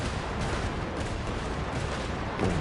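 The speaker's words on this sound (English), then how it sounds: "Oh, this one's a cannon." Cannon fire in the video game Genshin Impact, a loud continuous booming barrage with dense rumbling blasts filling the whole stretch, with no voices over it.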